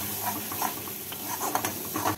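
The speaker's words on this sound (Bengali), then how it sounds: "এবার মশলাটাকে ভেজে নেব।" Ground spice paste with a little water frying in a pan for a vegetarian mixed-vegetable dish, giving a steady soft sizzle with scattered stirring scrapes and spatters throughout, close and moderately loud.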